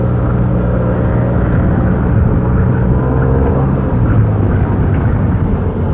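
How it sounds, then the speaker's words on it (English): A Yamaha T-Max 530 maxi-scooter engine with its standard exhaust runs with a steady, loud, deep rumbling drone that stays close and unbroken throughout, with no talking. "That's the reason why the sonority of the T-Max is so special. And this is the standard exhaust"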